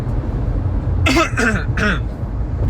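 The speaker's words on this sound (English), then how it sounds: "I have to cough." A person coughs and clears their throat in a few short bursts close to the microphone, over a low steady background hum.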